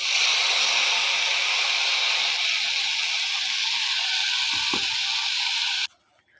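A ground coconut, onion and tomato paste hits hot oil in a pan for brinjal tamarind kuzhambu, giving a loud, steady sizzle that runs unbroken for about six seconds before cutting off abruptly.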